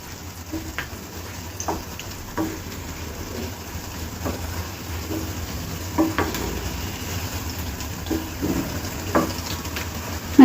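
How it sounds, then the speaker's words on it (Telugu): Soya kababs frying in hot oil in a pan give a steady, continuous sizzle and crackle with small bubbling pops, close and moderately loud throughout, with no talking. "చూడండి, ఇలా బ్రౌన్ కలర్ వచ్చే వరకు వేయించుకోవాలి."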